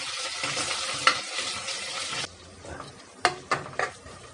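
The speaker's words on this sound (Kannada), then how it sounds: "ಶುಂಠಿ ಬೆಳ್ಳುಳ್ಳಿ ಪೇಸ್ಟ್ ಹಾಕಿ ಆದಮೇಲೆ ಈ ಥರ ಚೆನ್ನಾಗಿ ಮಿಕ್ಸ್ ಮಾಡ್ಕೊಳ್ಬೇಕು" Ginger garlic paste sizzling and frying in a pan while it is stirred, a steady hiss at first, then quieter frying broken by scraping strokes of the spoon.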